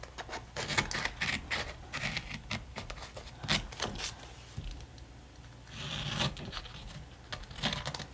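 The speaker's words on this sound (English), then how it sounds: "I'm first just going to cut out this February here." Scissors cutting out a paper February label for a planner: steady close snipping and rustling of paper, with soft irregular crunches continuing throughout.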